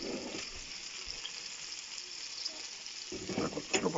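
Food sizzles steadily in a hot pan, a soft continuous frying hiss with a louder burst of crackling toward the end.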